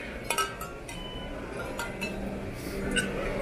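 Light metallic clinks and tinkles from metal wind chimes in a store ring out sporadically, a few bright chime strikes over a quiet background hiss.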